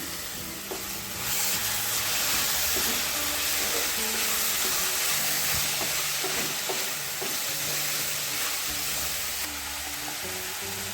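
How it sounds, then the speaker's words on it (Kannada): Tomato frying with turmeric in a pan for egg sukka produces a loud, constant hissing sizzle that holds steady for several seconds, with faint stirring scrapes underneath. "ಟೊಮೆಟೊ ಕೂಡ ಚೆನ್ನಾಗಿ ಫ್ರೈ ಮಾಡ್ಕೊಳ್ಳೋಣ"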